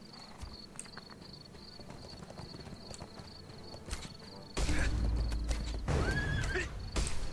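A horse in the video game ArcheAge neighs and whinnies loudly near the end, with clip-clop hoofbeats and faint insect chirps in the background throughout.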